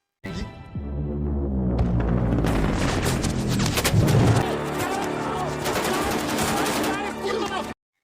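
Gunfire in the action film Blackout (2022) arrives as a dense, loud barrage of overlapping shots and booms in a corridor scene, sustained for several seconds over a busy soundtrack.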